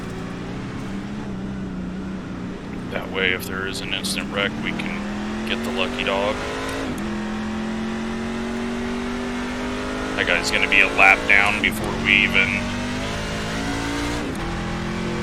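A race truck engine roars and accelerates in an iRacing NASCAR dirt race at Knoxville Raceway, a steady droning whine rising in pitch, heard under continuous commentary from someone talking.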